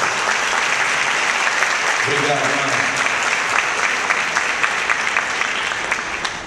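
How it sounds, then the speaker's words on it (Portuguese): Sustained applause from a church congregation fills the space at a seminar, dense and steady throughout, with a voice briefly speaking over it. "Aplaude Jesus pela vida do mãe."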